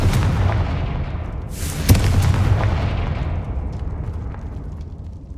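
A Confringo blasting spell goes off in Hogwarts Legacy, a loud booming explosion near the two-second mark over continuous rumbling combat noise that slowly fades away.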